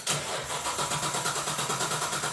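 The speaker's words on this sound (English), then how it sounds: "So now we're going to crank it to make sure we've got oil pressure" A Nissan GT-R engine fitted in a Datsun 240Z cranks on the starter without firing, giving a steady, loud, rhythmic chug of even pulses throughout with no voices.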